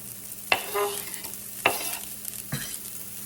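Ham for breakfast fried rice sizzles in a pan as it is stirred, with three sharp scraping strokes about a second apart over a faint steady fry, close and without talk.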